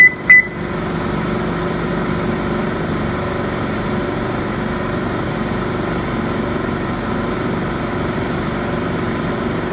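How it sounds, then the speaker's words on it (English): A microwave oven runs with cake batter inside, a steady droning hum lasting throughout after a brief beep at the start, with no voices. "Now I'm going to put it in the microwave for 2 minutes."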